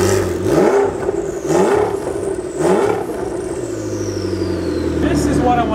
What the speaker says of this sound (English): Let me rev it for you.